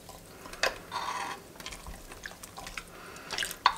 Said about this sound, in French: Je vais venir bien mélanger comme je vous ai dit pour diluer ma biga dans l'eau.